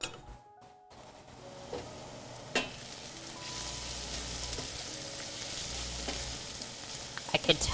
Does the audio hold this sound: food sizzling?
yes